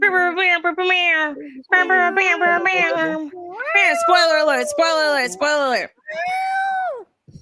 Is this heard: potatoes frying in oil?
no